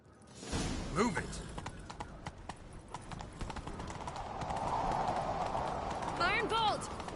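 A horse galloping in The Witcher 3 makes rapid, repeated hoof clip-clops over a rising rushing whoosh, with voices speaking over it in places.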